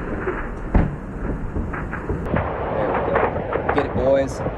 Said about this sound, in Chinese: 乌克兰首都基辅枪声大作。